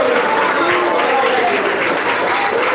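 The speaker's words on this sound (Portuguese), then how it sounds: "Aplauda ao Senhor Jesus esta noite" Congregation applauding at a Portuguese-language evangelical church service, a steady dense wash of clapping and crowd noise held throughout, with a preacher's voice faintly present underneath.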